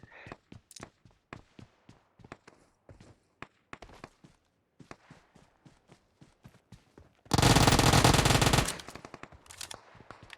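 Loud sustained automatic gunfire from PUBG Mobile erupts for over a second near the end, preceded by a steady run of sharp single in-game shots and footstep-like taps.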